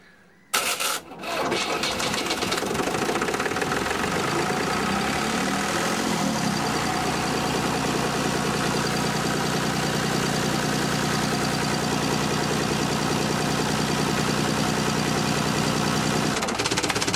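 Engine cranking briefly and catching after the battery is switched on and throttle given, then settling into a steady, loud, continuous idle heard close up, with no talking.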